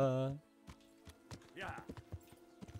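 A ridden horse's hooves clip-clop in Kingdom Come Deliverance. A short tonal call opens, then uneven hoofbeats follow close by, with a voice talking over them.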